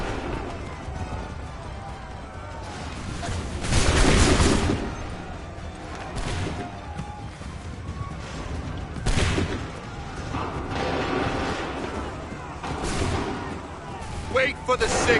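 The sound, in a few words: gunfire and cannon fire in video game Assassin's Creed III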